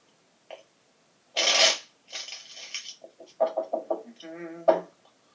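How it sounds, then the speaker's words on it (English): Tarot cards shuffled by hand in two brisk broadband bursts, followed by short clacking taps and a few harmonic vocal-like sounds near the end. "Let's get one more shuffle after this for Libra"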